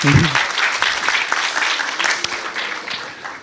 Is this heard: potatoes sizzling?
no